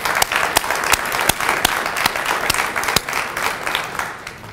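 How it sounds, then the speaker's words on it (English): Applause for a graduating class at a BioScience graduation ceremony: steady clapping from a hall audience, with a few sharp, distinct claps standing out near the front, fading slightly toward the end. "I'd just like to offer a round of applause to the complete graduating class"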